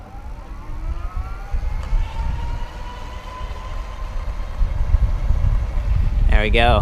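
Snelheid Cycles Tyro e-bike's hub motor accelerating from a standstill to top speed, a steady whine rising over heavy wind rumble, with a brief spoken phrase near the end.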